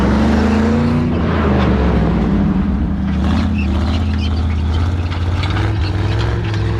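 A 1970 International Loadstar truck engine roars loud and close as the driver tries to drift it, its deep revving rising and swelling over several seconds with tyre and road noise mixed in.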